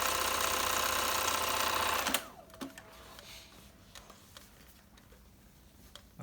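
A Bernina 930 sewing machine runs loud and steady for about two seconds, a continuous mechanical whir, then stops abruptly, leaving faint clicks and quiet handling sounds.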